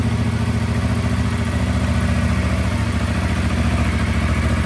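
A Yamaha MT-07 Y-AMT motorcycle engine idles steadily and close by, a loud, even low rumble with a faint mechanical clatter, with no voices.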